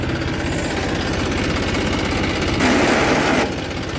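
Tractor engine running in a village setting, a steady close mechanical chugging drone with rhythmic knocking pulses and a brief louder rise in the middle, no talk.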